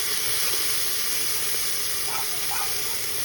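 Onion, ginger-garlic paste and tomato fry in a pan, giving a steady, loud hiss and sizzle that holds without a break, with a couple of faint clinks.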